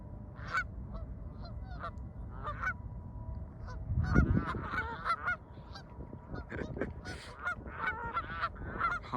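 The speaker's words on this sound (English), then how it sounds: "Honking." Geese honk repeatedly at a riverside park where Ohio, West Virginia and Kentucky meet, a cluster of nasal calls, fairly close, with a louder burst midway and soft outdoor noise underneath.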